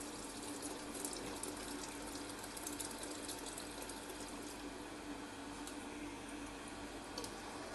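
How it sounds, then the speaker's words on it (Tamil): Water is added to a pan of chicken and ground peanuts while cooking Arabian shawarma, giving a faint, steady running-water sound that lasts throughout without talk. "நம்ம இதில் கூட தண்ணி சேர்த்துக்கலாம்."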